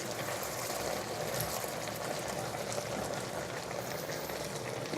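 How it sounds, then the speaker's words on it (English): A thick cream sauce with bacon lardons and Brussels sprouts is stirred in a pan, giving a steady, close bubbling, simmering texture with no break. "Just going to give it all a quick final stir."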